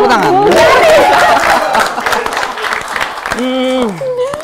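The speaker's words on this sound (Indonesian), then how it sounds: "Nggak apa-apa, tepuk tangan." Studio audience at a comedy show claps and chatters in a short burst between lively talk, with voices speaking over the noise before and after.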